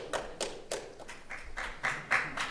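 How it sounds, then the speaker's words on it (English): Scattered hand claps from an audience at a legal conference session on civil rights precedent: a run of separate, fairly even claps, moderately quiet, with no talking. "You can clap, it's okay."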